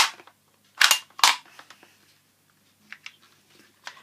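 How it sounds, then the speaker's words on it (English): Charging handle pulled back on a KWA Kriss Vector gas blowback airsoft gun, two sharp, close metallic clacks in quick succession followed by a few faint small clicks. "Pull back the charging handle."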